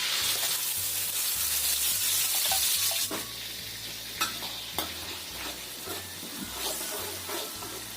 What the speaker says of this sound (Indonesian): Ini kita panaskan minyak. Kita masukkan dulu bumbu yang sudah kita haluskan tadi.